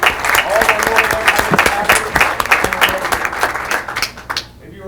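Applause from an audience at a school board of education meeting, a dense steady clapping that fills the room for several seconds before fading out at the end.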